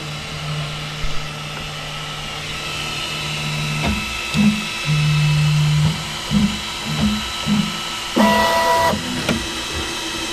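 An Elegoo Centauri V2 3D printer unloading filament gives a steady motor hum with repeated short whirring bursts and stepper buzzes, then a brief sharp high-pitched beep-like tone near the end, close and alone.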